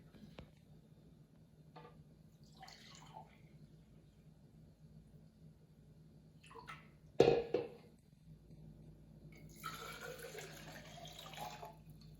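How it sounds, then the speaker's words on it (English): Water is poured from a cup into a tall narrow container and a short wide one, a brief near splash and trickle around the midpoint followed by a longer steady pour at the end, against quiet room tone. "I'm going to pour 1 cup in each of these containers."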